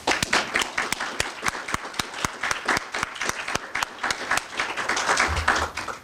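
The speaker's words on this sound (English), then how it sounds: "I just want to give her a round of applause" A lecture audience claps in steady, fairly even applause, with many hands striking in a loud, continuous patter from start to finish.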